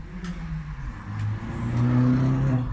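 A car drives past outdoors with a low engine rumble that swells toward the end, sustained and fairly close, with no talk.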